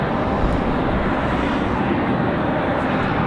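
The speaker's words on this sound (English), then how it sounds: "Let you guys enjoy the Dreamliner's arrival." A Lufthansa Boeing 787 Dreamliner arriving at Raleigh-Durham airport gives off a loud, steady broadband jet roar that holds at constant strength throughout, with no voices.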